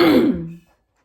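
A single short, raspy throat clearing, close and fairly loud, that trails off into silence.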